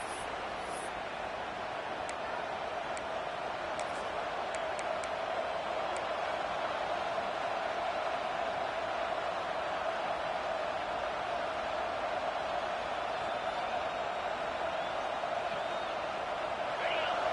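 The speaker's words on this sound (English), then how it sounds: "This crowd, full throat, splitting the eardrums and letting them know it's going to be a long day." Stadium crowd at a Georgia versus Texas A&M college football game, a steady dense roar filling the whole span at an even, sustained level with no pauses.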